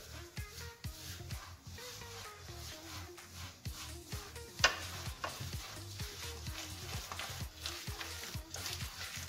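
Grated coconut being mixed by hand into beaten eggs, oil and granulated sugar, giving a steady rhythmic squelching and slapping that repeats close up without talk.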